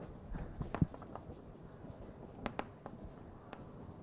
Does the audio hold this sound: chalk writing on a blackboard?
yes